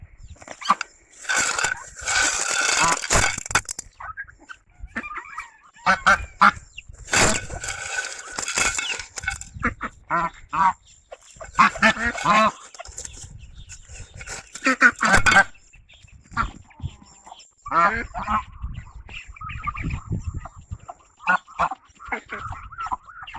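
Geese and ducks at a farm poultry yard call repeatedly while being fed in the late afternoon, with loud overlapping honks and quacks in bursts throughout, close by, with faint voices now and then.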